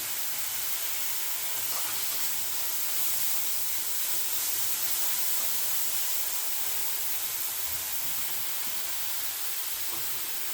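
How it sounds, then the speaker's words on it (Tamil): Onions fry in hot oil right after mustard seeds have popped, the first step of an Andhra-style potato and eggplant curry. A constant, dense sizzle fills the whole stretch, with no talking over it. "இப்போ வெங்காயம் ஆட் பண்ணிக்கலாம் லைட்டாக கோல்டன் கலர் வரட்டும்"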